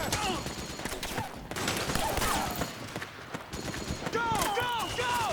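Rapid gunfire crackles through a chaotic firefight in Metal Gear Solid 4, bursts of shots overlapping with soldiers shouting commands and other battle noise throughout.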